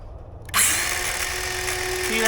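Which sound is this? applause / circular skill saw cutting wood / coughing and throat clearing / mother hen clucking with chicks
circular skill saw cutting wood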